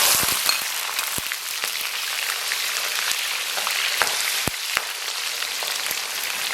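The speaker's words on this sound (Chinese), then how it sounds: "把葱蒜给放到里边爆香" Scallion, ginger and garlic hit hot oil already fragrant with star anise in a wok, a dense continuous sizzle with scattered crackles and pops throughout, close and steady.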